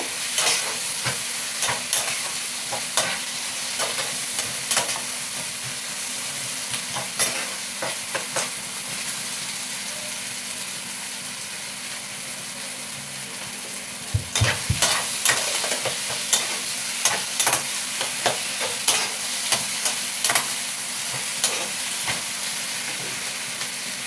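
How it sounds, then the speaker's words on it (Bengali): Bengali-style spice paste for a mutton curry fries and sizzles steadily in oil, with repeated scraping stirs and clicks of the spoon against the pan throughout, a sharper burst of clatter midway. "লাল লাল করে ভালো করে মশলাটাকে কষিয়ে নিতে হবে"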